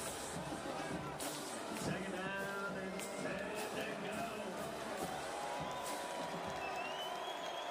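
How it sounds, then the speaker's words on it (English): Stadium crowd at a Bobcat Stadium semifinal football game, a continuous roar of cheering and scattered clapping under a commentator's voice throughout. "So this crowd here at Bobcat Stadium getting behind the Bobcats."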